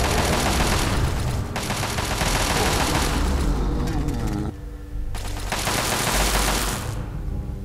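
A hacked turret in Fallout 3 firing on mercenaries, sending loud, sustained automatic bursts that pause briefly and then resume, dense and close with no one speaking.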